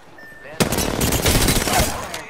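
Automatic gunfire erupts in an Apex Legends match, a sudden loud sustained burst of rapid shots with a sharp onset, close and dense, over low background noise.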